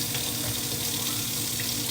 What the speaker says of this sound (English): pour that out. Try to get as much water as you can off of it.